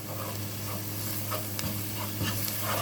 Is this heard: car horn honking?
no